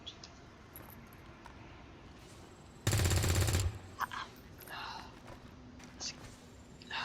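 A burst of rapid gunfire from a weapon in X-COM 2, lasting under a second, loud and close against a dim background of game ambience and faint voices.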